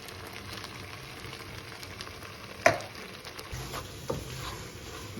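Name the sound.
mushrooms added to beans frying in a pan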